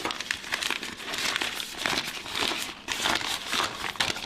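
A plastic piping bag filled with cake icing is folded over at the top, making continuous close, loud crinkling and rustling with short pauses and no speech.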